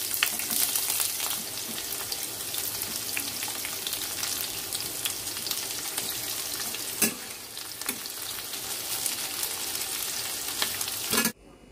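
Hot oil sizzles steadily as black chickpeas fry with whole garam masala tempering, close and continuous, with scraping stirs and a few sharp clinks of a spoon against the pan before it cuts off near the end.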